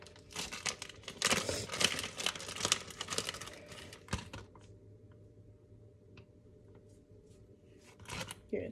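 Ham being torn by hand into small pieces for an omelette, a close papery crinkling and ripping in bursts over the first few seconds, then quieter with a few faint rustles before a final crackle.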